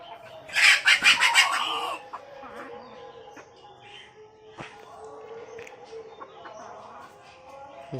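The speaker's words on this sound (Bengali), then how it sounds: "মুরগিগুলো চলে আসছে, কোন জাতে বা ধাওয়া মা খায় আসলো সবগুলা। তো এদেরকে খেতে দিলাম," Backyard chickens being fed burst into loud, close clucking for about two seconds, then keep up quieter, scattered clucks and calls in the background.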